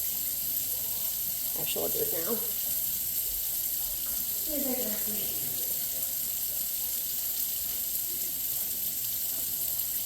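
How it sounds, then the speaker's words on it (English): Warm tap water runs steadily into a sink during a nylon mesh tie-dye session with acid dyes, a constant close hiss under a person speaking briefly. "You can hear my water running"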